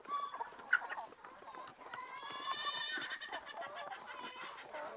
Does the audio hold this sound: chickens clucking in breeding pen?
yes